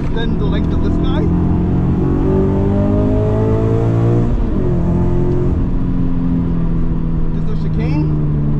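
A race car lapping a track, its engine loud and close as it revs, then drops in pitch during a downshift with rev matching before pulling steadily again.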